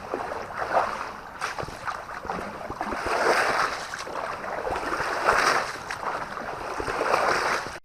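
Water sloshed and stirred by a bucket in a small backyard pool, continuous splashing and swishing in repeated surges, close and fairly loud.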